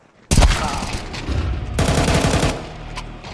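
Rapid automatic gunfire in Counter-Strike 2 breaks out suddenly, a loud, close burst of shots followed by sustained rattling fire and a trailing echo, one sharp crack near the end.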